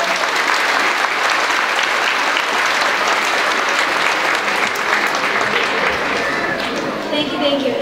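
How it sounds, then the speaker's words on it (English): Loud, sustained applause from a school audience at an elementary holiday concert for kindergarten and second grade, dense clapping holding steady for about eight seconds with faint crowd murmur mixed in. "So can we have a quick round of applause for Ms."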